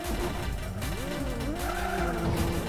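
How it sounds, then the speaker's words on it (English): Rave Racer arcade racing game car crashing mid-race: continuous engine roar with sliding, squealing tire pitch sweeps over about three seconds, loud and steady, no talk. "Ah, so you hit a car and it's over."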